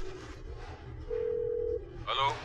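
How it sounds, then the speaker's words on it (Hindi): A telephone being dialed in a Hindi comedy film scene gives a steady tone lasting about a second, followed by a brief electronic burst, heard over a low background murmur of the scene. "कादर भाई को फोन लगाता हूं।"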